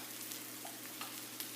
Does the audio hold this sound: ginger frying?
yes